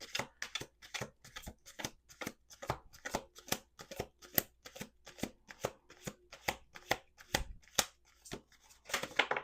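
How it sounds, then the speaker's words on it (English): Close-up riffling and snapping of a card deck being shuffled, a rapid series of sharp crisp bursts in uneven rhythm. "Let's do 2 more shuffles."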